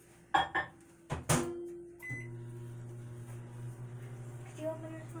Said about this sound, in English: I'm going to go ahead and melt the butter in the microwave.